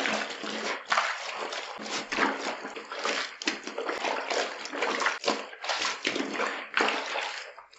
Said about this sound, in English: We are just going to give it a quick and rough wash.